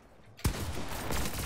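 A sudden close gunshot in Fortnite rings out after a near-silent moment, followed by a burst of rapid gunfire and lingering game noise that stays loud to the end.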